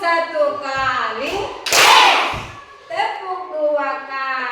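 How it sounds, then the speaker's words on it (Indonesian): A classroom of children claps hands together once, a single sharp burst midway, framed by a teacher's voice speaking before and after it. "Tepuk 1 kali."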